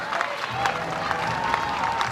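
Florida crowd at a women's college softball game against Florida State, cheering and clapping steadily as the opponent faces a final strike, a dense roar of applause with scattered shouts heard from a distance.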